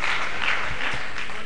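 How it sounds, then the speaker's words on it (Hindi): Loud, sustained applause from an audience at a gathering, a dense continuous clapping with no break. "जोरदार तालियां"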